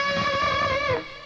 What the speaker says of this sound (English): the introduction starts off with this unison octave bend